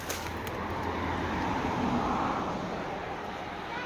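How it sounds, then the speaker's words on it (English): Distant road traffic carries to a riverbank as a steady, even rush of broadband noise with no distinct passing vehicles and no talking. "You can hear the road noise I'm talking about."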